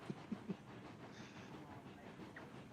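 A nine-car train in the video game Railroads Online runs along the track with a faint, steady rumble and a few soft clicks of wheels near the start.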